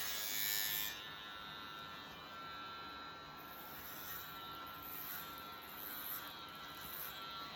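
Electric hair clippers buzz continuously and fairly close during a buzz cut, a steady high whine that shifts slightly in pitch as they move through the hair.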